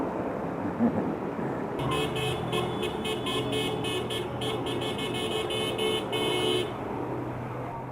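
Car horns honk repeatedly in heavy rainy-day road traffic, heard from a motorcycle, a sustained multi-tone horn blaring for several seconds over a constant rumble of engines and roadway noise.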